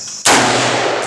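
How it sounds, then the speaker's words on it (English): A single loud rifle shot from a .30-06 at a shooting range, a sharp blast at the start followed by a long, booming decay that fills the rest of the moment. "I'm gonna shoot with the 30-06 shells in it."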